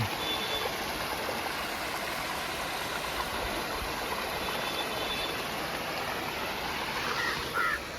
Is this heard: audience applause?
no